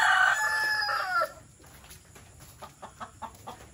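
A rooster crows loudly and close by, followed by quieter scattered clucks and rustling.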